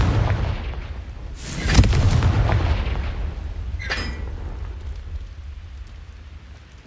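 A Confringo blast spell goes off in the Hogwarts Legacy game, a loud booming burst with a crackling tail, followed by a second brief crackle, over a steady low rumble of background noise.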